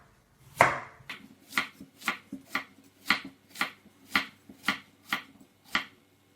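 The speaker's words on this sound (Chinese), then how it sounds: "滚刀切块。" A knife roll-cuts a potato into chunks on a board: about ten crisp, evenly spaced chops in a steady rhythm, close and fairly quiet, with nothing else heard.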